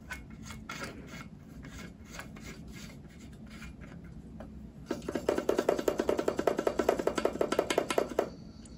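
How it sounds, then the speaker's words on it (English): A trumpet valve cap is screwed back on, with faint scraping and rubbing at first, then a rapid run of close, crisp ratcheting scrapes as the threaded metal cap turns. "And screw your valve cap back on."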